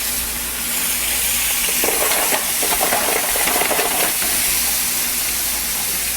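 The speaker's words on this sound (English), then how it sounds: "I'm going to saute them lightly" Shrimp and scallops sauteing lightly in a pan give a steady, moderately loud hiss and sizzle with no talking, swelling slightly in the middle before settling back.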